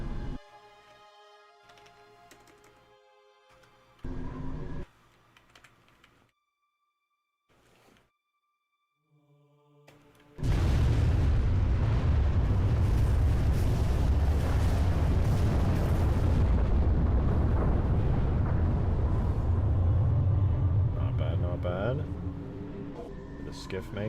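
A Spire explodes in a modded Halo 3 match: after quieter game sounds and pauses, a sudden massive blast erupts into a loud, sustained rumbling roar that slowly tapers off.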